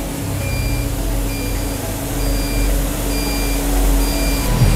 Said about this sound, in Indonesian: sekarang terdengar suara alarm, itu tandanya temperaturnya di sini menunjukkan turun dari nilai settingan